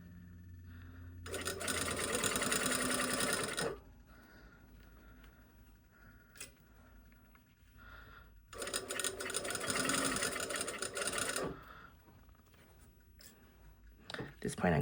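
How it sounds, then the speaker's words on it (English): A sewing machine stitches a zipper and fly shield close to the fabric edge on a cut-on trouser fly. It runs in two steady whirring bursts of about three seconds each, separated by quieter handling noise and faint talk. "I'm going to now sew this zipper and fly shield to this side"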